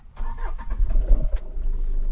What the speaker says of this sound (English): Okay, so now what I will do, I will start the engine.